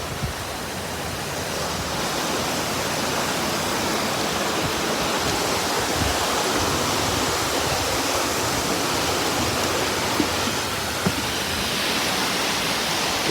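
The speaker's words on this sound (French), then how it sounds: "Je me dirige vers la cascade numéro 1." Waterfall in Guam, a steady, loud, broadband rushing roar that fills the whole stretch with no talk over it.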